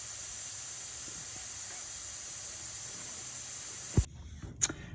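Air rushing out of a tyre valve stem through an attached tyre deflator at around 36 PSI, a loud steady hiss that cuts off sharply near the end, followed by a couple of faint clicks.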